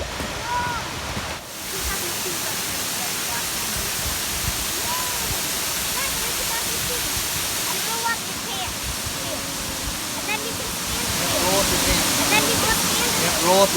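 Smith Falls, a waterfall in Nebraska, pours with a constant broadband roar while children's voices talk and call over it throughout.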